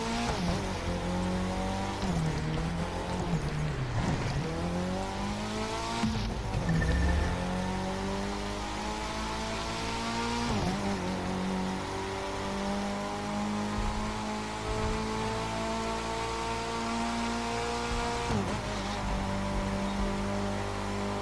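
Engine of a fast car in the racing game The Crew 2 roars continuously, climbing through revs with gear-change dips and occasional tyre squeal, loud and steady throughout with no talk.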